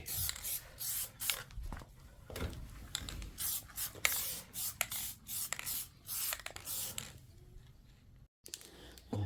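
Plasti Dip sprayed from an aerosol can onto an Acura TL, a run of hissing bursts of varying length, close and fairly quiet, with a brief stop near the end before spraying resumes.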